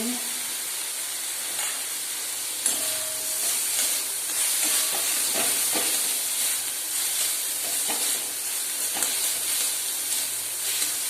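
Boiled corn being stirred into a sizzling masala in a pan, a steady hiss of frying with scattered scraping and clinking of the spoon, soft and close.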